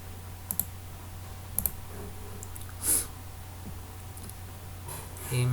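Computer mouse clicks on a desktop, a couple of sharp close double clicks over a quiet steady hum, with a soft rustle partway through.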